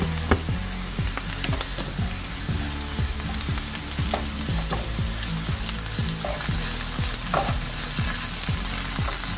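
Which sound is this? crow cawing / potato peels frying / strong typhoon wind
potato peels frying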